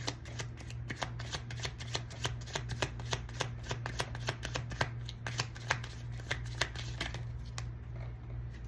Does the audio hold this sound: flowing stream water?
no